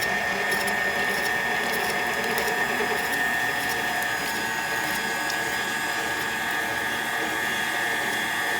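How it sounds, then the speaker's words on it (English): A kitchen mixer stirs a batter of egg, oil, honey and buttermilk with a steady mechanical whir and a high motor whine, constant and moderately loud throughout, with no voices. "So now it's mixing, or it's stirring in there. I just had it on the stir."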